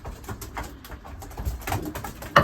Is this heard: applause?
no